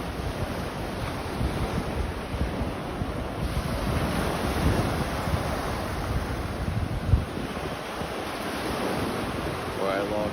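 Beach waves at sunrise on the Gulf of Mexico: a steady wash of surf rolling onto the shore, mixed with gusting wind buffeting the microphone, continuous and fairly close throughout.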